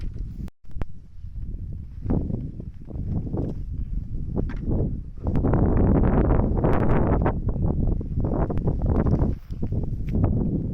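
Gusty mountain wind on Mount Tenzan buffets the microphone with a loud, rumbling roar that rises and falls in uneven surges.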